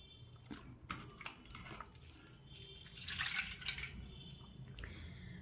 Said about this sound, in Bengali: শুরুতেই এই গরম জলের মধ্যে রুমালটা ভিজিয়ে নিলাম